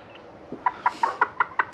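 A chicken, likely an Ameraucana cross, clucks in a quick, even series of about six short, close clucks following a softer lead-in note.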